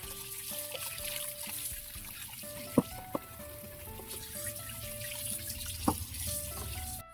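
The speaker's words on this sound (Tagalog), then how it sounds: "Hugas tayo ng galunggong." Running tap water pours steadily into a sink while galunggong fish are rinsed, with a continuous splashing trickle broken by a few sharp knocks and clinks.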